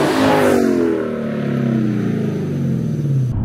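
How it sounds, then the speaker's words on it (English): A naturally aspirated 5-liter Toyota V8 revs hard and loud, the engine note climbing steadily in pitch across a few seconds of sustained acceleration, close to the microphone, with no talking. "It revs to the moon, and it sounds good doing it."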